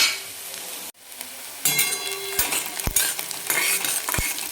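Sliced onions being stirred and sautéed in a pan for a masoor dal and onion dish, a steady sizzle broken by a brief pause, then louder frying with sharp spatula scrapes and clinks against the pan.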